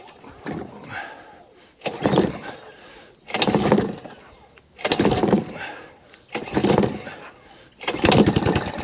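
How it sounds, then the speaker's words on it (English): A lawn mower engine, one of a job lot with its governor arm disconnected, is revved repeatedly in six loud bursts, each surging and dropping back to a rough idle between them. "let's give it some revs, see what we get"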